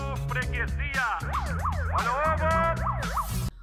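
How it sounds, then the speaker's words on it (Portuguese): A police siren wails loudly and continuously with rising and falling sweeps, close by, over low rumbling background noise. "Um barulho de sirene de polícia"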